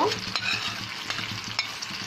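Goat brains frying with spices in a pan, a close, busy sizzle broken by quick scraping strokes of a spoon, loud and unbroken with no voices.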